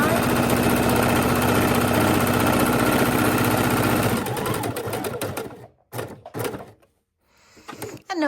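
A sewing machine stitches around the edge of a fabric potholder, running steadily and loudly for about four seconds, then slowing into short bursts and stopping with brief pauses.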